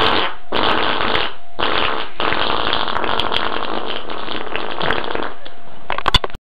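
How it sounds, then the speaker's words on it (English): A huge, long fart sound effect plays loud and alone, a dense sputtering blast broken by short gaps and ending in a few sharp pops. "Huge fart."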